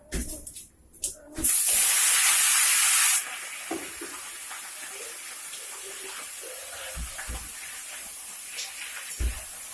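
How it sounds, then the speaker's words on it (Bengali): Pumpkin pieces hit a little hot mustard oil in a home kitchen pan with a loud burst of sizzling spray, settling into a steady softer hiss dotted with small crackles. "সর্ষের তেল দিয়ে অল্প তেল দিয়ে এই কুমড়োটা দিয়ে দিচ্ছি"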